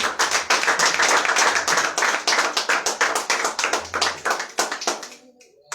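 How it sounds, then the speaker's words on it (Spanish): A church congregation claps for the Lord, brisk sharp handclaps in a near-rhythmic stream that thin out and stop just before the end, with no talking. "Dele un aplauso al Señor"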